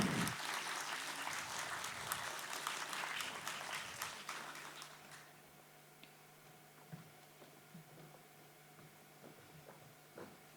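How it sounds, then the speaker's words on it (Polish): Applause from an audience at an award ceremony fills the first five seconds with dense, bright clapping, then fades to a few scattered claps over quiet room noise. "Gratulujemy, duże brawa."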